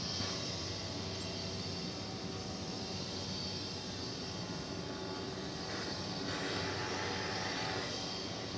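A 1992-built airliner at DFW Airport, heard as a continuous loud engine roar and broadband rumble that holds steady throughout, with no talking.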